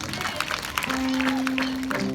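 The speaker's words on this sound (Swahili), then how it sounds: "Mpigie Yesu wangu makofi." Church congregation clapping and cheering under a Swahili-speaking pastor's service, a dense mixed crowd noise with a sustained tone in the middle, fairly loud and close.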